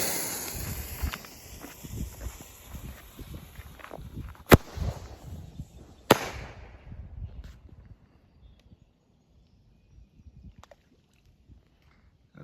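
An Old Glory parachute firework is launched outdoors by a river after the Fourth of July, with two sharp pops a couple of seconds apart over faint rustling and handling noise, then near silence as it drifts.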